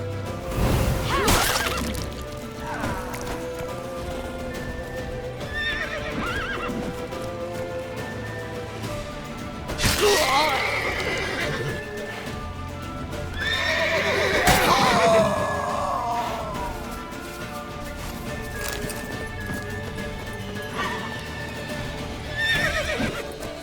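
Horse neighs and whinnies in The Witcher 3 game, with hoofbeats clopping beneath dense game music and effects; loud bursts of neighing stand out around the middle and later, over a busy, continuous backdrop.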